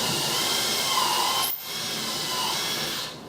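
A power drill with a spade bit whirs steadily up close while drilling into camper deck wood, briefly easing off midway before spinning up again, then cutting out at the end.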